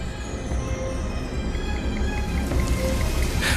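Steady rain falling as a sound effect in a horror story, a dense even hiss of drops with faint scattered patters, fairly loud and close, with no talking.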